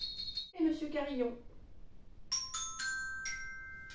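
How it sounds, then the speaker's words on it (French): A voice speaks briefly, then a small bell rings out and a set of chimes strikes several bright, sustained tones one after another, each note ringing on clearly. "Madame Clochette. Et Monsieur Carillon"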